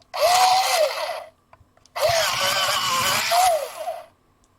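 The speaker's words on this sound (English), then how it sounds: "I need to use that sharpener. Can I use the sharpener?" Two bursts from an electric pencil sharpener: a high, grinding whir that rises and dips as a pencil is pushed in, the first about a second long, the second longer, close and loud.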